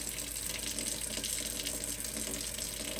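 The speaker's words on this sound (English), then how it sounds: "You're supposed to reduce the water flow to a trickle, so it says." Water from a touch kitchen faucet, turned down to a trickle, runs into a sink with a constant, steady hiss and splash, fairly close and unbroken, with no speech.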